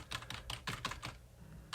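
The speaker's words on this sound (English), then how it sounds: "the keyboard I have is, really shitty" Typing on a cheap, poor-quality HP computer keyboard: a quick run of close, clacky keystrokes, a brief pause, then one more key press, with no talking.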